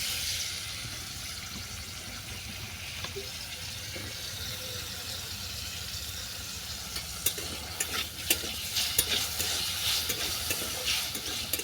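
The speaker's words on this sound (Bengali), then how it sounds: "লঙ্কাগুলো হালকা করে ভেজে নেওয়ার পর দিয়ে দিচ্ছি কেটে রাখা আলু" Cut potatoes fry with chilies in hot oil, giving a soft, even sizzle throughout, with a few sharper scrapes and clinks of stirring toward the end; no talking.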